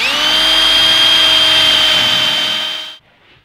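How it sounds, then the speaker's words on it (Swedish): A power drill spins fast while boring into wood, a loud steady high whine held for nearly three seconds before it cuts off abruptly, leaving near silence. "Tänk på att låta borren snurra snabbt."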